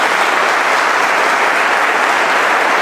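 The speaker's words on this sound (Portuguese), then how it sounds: "Uma salva de palmas aqui para Simoninho, para a comissão." A church congregation applauds warmly after families are introduced, a loud, dense and steady wash of clapping that fills the whole moment without any voices on top.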